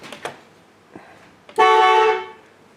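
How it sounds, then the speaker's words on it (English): An aftermarket car horn fitted to a car gives one loud sustained honk of about a second, preceded by a few faint clicks and knocks. "Alright guys, horn is done. Let's hear that bad boy."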